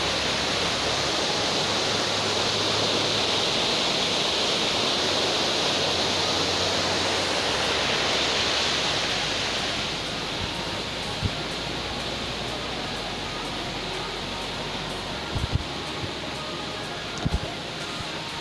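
Daja Daku falls in San Isidro, Leyte pours as a dense, steady roaring rush of water, loud and continuous, easing slightly partway through, with a few faint knocks near the end.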